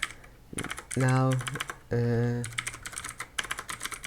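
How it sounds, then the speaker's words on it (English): Someone types an email address on a computer keyboard, producing quick close clicking keystrokes in short bursts, interrupted by two sustained tonal voice sounds in the middle. "Now remove it and then type here any email you want"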